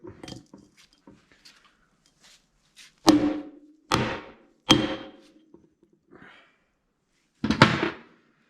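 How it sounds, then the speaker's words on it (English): A handful of sharp metallic knocks with ringing decay from a seal driver tapping a seal into an LMTV wheel hub, spaced a second or so apart, close up, between quieter small clinks. "I have this nice seal driver, so I'm gonna use it."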